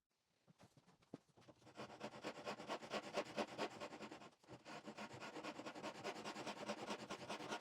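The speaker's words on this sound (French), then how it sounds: "donc je vais tout faire à la scie japonaise." A Japanese hand saw rasps through wood in quick, rhythmic pull strokes, close and steady, with a brief pause midway before the sawing resumes, during work on an antique table extension.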